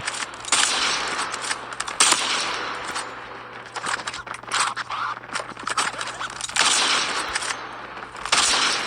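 Rapid automatic gunfire in the mobile shooter Call of Duty Mobile, loud dense bursts of shots in quick succession with brief gaps, continuing throughout over a steady low hum.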